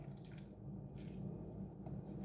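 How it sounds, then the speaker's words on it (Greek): A glass of water is poured into a pan of stuffed tomatoes and vegetables filled with rice, a quiet, continuous watery trickle and splash, fairly faint and close. "θα ρίξω και ένα ποτήρι νεράκι, γιατί ρίξαμε επιπλέον ριζάκι"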